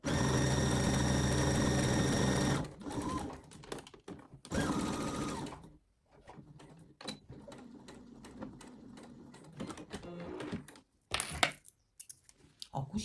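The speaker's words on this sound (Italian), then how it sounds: "Dopodiché cuciamo la base." A domestic sewing machine stitches the fabric base of a 3D Christmas house, running in a steady loud whir for about two and a half seconds, then another short burst, followed by quieter handling, clicks and brief stitching noises.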